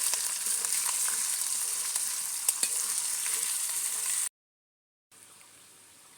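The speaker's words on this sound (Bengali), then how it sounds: "জিরা বাটা দিয়ে কষাবো।" Onion, garlic and cumin paste frying in a pan, a steady hissing sizzle dotted with small stirring clicks. It drops to brief silence partway through, then the sizzle resumes.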